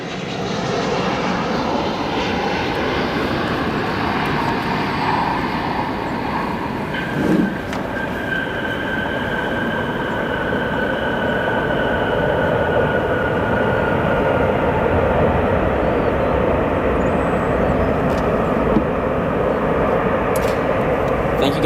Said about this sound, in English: Strong reverse thrust